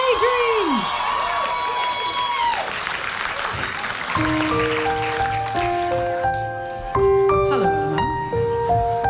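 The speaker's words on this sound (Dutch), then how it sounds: "Geef haar een heel groot applaus." A live audience at a small music café in April 2023 claps and cheers loudly for a singer, steady applause with scattered shouts, then music and instruments start up beneath and take over.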